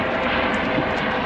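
A helicopter flies overhead during a coral-rescue dive, heard as a loud, continuous engine drone and rotor rumble filling the whole short moment without any voices.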